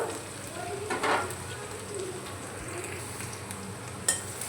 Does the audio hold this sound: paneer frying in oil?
yes